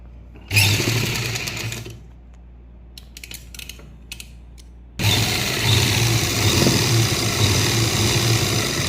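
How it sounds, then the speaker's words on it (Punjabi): A sewing machine stitches a half-inch seam on a lined salwar: a loud burst of rapid stitching, a pause with faint clicks and handling, then a steady second run of stitching to the end. "ਹੁਣ ਆਪਾਂ 1/2 ਇੰਚ ਦੀ ਸਿਲਾਈ ਲਾਉਣੀ ਹੈ ਇਹਨੂੰ"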